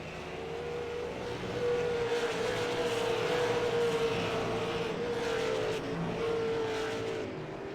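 Race cars circle a track in an American All Star recruitment race, sending up a continuous engine drone at moderate distance that swells slightly and holds a steady pitch, with no voices.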